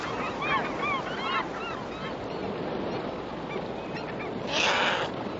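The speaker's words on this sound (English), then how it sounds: "As they gather, so do the scavenger seagulls" Scavenger seagulls call in clusters of short, harsh cries at the McNeil River, where bears gather to fish. Steady rushing water runs underneath and one louder burst comes near the end.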